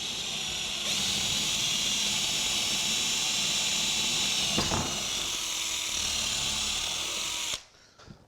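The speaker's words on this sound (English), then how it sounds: "So we change the drill bit to a large piece" A power drill fitted with a large bit bores into a door while an antique iron rim lock is being installed, giving a steady, loud, hissing whine for about seven seconds with one brief catch midway before it stops abruptly.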